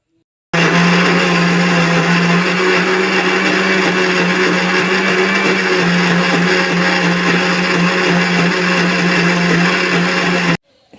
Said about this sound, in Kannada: ಸ್ವಲ್ಪ ನೀರು ಹಾಕ್ತಾ ಹಾಕ್ತಾ ಮಿಕ್ಸಿ ಮಾಡಿದ್ರೆ ಈ ರೀತಿ ಸಣ್ಣಗಾಗುತ್ತೆ